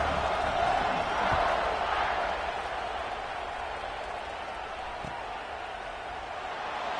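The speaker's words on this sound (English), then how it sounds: "this crowd now ready to get behind them" Distant stadium crowd roar in the College Football 26 video game, a broad steady swell that peaks early and then settles into a sustained murmur.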